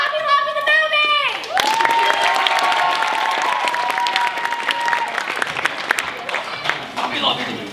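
An improv show audience at a senior night bursts into loud applause with cheering and whoops right after a brief spoken line, the clapping sustained and dense for several seconds.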